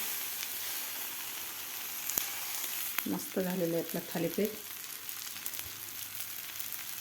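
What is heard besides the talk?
thalipeeth flatbread sizzling on hot griddle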